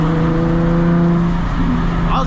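Car driven loudly through a tunnel, its engine and road roar filling the space with a steady, close, booming drone throughout, and a faint voice mixed in near the end.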